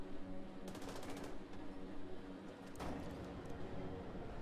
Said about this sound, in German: Er schießt immer noch auf Benjamin, das ist gut.